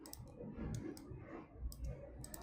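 Soft, faint clicks of a computer mouse in Photoshop, a handful of sharp ticks spaced irregularly over a quiet low background, with no talking.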